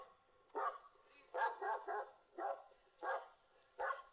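A dog barks in a series of about six or seven sharp, mid-distance barks, some in quick pairs, spaced out over a quiet, faintly hissing background.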